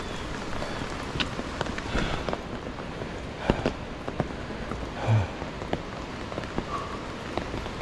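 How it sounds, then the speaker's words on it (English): Steady cold rain falls on the Appalachian Trail, pattering on surfaces nearby, a dense continuous hiss with scattered sharper drops and occasional light thuds. "If it wasn't cold rain, I would not mind this at all."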